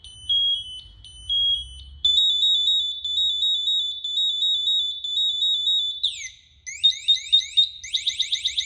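A Honeywell SCBA PASS device stage 2 alarm: a high electronic alarm chirps in short bursts, then holds a steady piercing tone that breaks into rapid warbling pulses near the end, with no talking.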